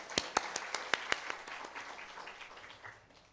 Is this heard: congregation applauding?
yes